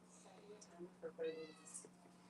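A cat stuck outside during a Florida storm meows several times, short plaintive calls with one drawn-out cry, under a steady electrical hum.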